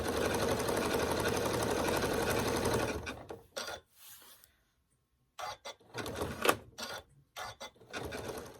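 A sewing machine free-motion quilts a table runner, its needle chattering in a fast, dense run for about three seconds before breaking into short stop-start bursts separated by brief silences.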